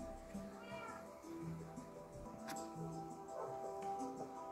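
A cat meowing in Minecraft, several short rising and falling mews spread across a few seconds, close and fairly clear over a quiet background of game music.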